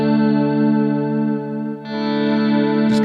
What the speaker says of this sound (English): if you have a compressor in front, it'll kind of give you a little extra sustain on clean tones